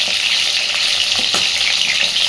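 Pointed gourd (potol) slices with salt and turmeric fry in a hot pan, giving a steady, bright sizzle that fills the whole stretch, close and loud, with a few soft stirring knocks and no voices.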